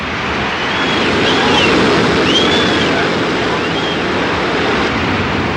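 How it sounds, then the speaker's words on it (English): Turbulent water rushes through arroyo rapids in a loud, steady, broadband roar that swells slightly midway and never lets up. "As they neared a turbulent junction where the arroyo split into two channels, Ken tried to push Eddie toward the calmer c"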